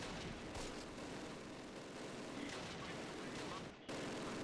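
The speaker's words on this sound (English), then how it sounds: "What are we still shooting at there?" Scattered gunfire in the WWII tactics game Close Combat: The Longest Day, a steady wash of distant small-arms crackle that runs throughout, with a brief dip near the end.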